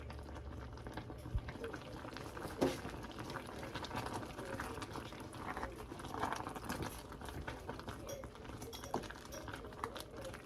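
Apples simmer in a pot on low heat with a gentle, uneven bubbling and soft patter, broken by occasional light clinks, at fairly low volume.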